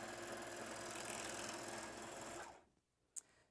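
A Juki MO-1000 serger stitching quilting cotton runs with a fast, even mechanical whir for about two and a half seconds, then stops, followed by a faint click.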